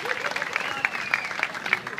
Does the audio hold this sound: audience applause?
yes